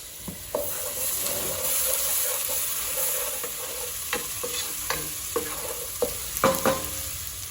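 Butter, bay leaf and ginger garlic paste hitting a hot pan for restaurant-style dal makhani, a loud continuous sizzle with a series of stirring scrapes and taps toward the end.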